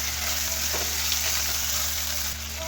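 Minced chicken hitting hot fried spices in a pan over low flame, giving a steady, even sizzle and frying hiss close up, with faint stirring and no talk.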